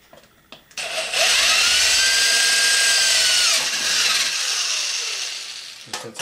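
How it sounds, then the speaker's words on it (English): A power drill with a 3/16 bit bores through metal from the back side, winding up and whining steadily for several seconds close by, then spinning down and stopping. "I'm going to take a drill with a 3/16 bit in it, and we're going to drill from the back side"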